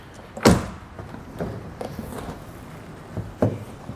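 A BAKFlip F1 hard tonneau cover is latched down in sections on a 2022 Ford F-250 truck bed. Three sharp, close thunks ring out a few seconds apart, with softer clicks and rattles between them and no talking.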